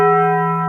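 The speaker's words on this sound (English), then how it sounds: "I rang the bell." A single bright bell strike rings with a clear, sustained tone, loud and close, fading only slightly over its short length.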